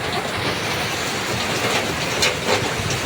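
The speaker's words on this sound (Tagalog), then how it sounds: "Grabing ulan mga idol, gawa ng bagyo." Heavy typhoon rain pours down in a dense, steady roar that stays loud and unbroken throughout, with no voices.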